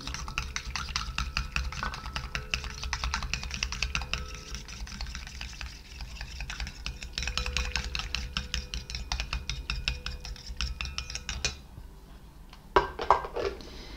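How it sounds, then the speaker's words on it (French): A hand cream mixture being stirred in a bowl as water is slowly added, giving a steady run of quick clicking, scraping strokes of utensil against bowl, close and continuous, then stopping near the end with a couple of brief knocks. "je rajoute mon eau tout doucement en mélangeant"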